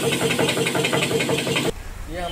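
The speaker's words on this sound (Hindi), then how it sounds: "अब इसको पूरा प्रेशर के पानी से पूरा वॉश करेंगे" A pressure washer sprays water over a Hyundai Creta during a general service, giving a loud, steady motorised hiss with a pulsing pump beat that cuts off abruptly near the end.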